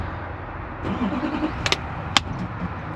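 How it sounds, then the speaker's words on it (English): An old Ford car engine turns over and catches after a brief crank, with a couple of sharp clicks or bangs, close by and fairly loud over a rough idle. "give her a fire up and slam it to gear"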